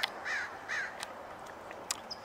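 Crows mobbing a red-tailed hawk give two distinct caws at moderate distance, followed by fainter scattered bird calls over quiet outdoor background.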